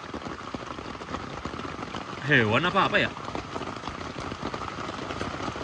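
Heavy rain pours during a thunderstorm at a mountain campsite, a dense continuous hiss and drumming throughout, with a person briefly speaking over it midway.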